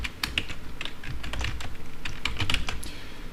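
Rapid, uneven keyboard typing into an email field, a steady run of close, crisp key clicks with no voices.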